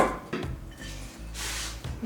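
A 51-year-old iron cooking pot is handled and set in place in a home kitchen, with a few close metallic clanks and scrapes and quieter knocks between them.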